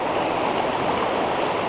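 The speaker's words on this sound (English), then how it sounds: "that all out there looks like it's fast moving water" Fast-moving river water at a trout fishing spot rushes in a steady, broad wash that stays close and loud throughout, with no voices.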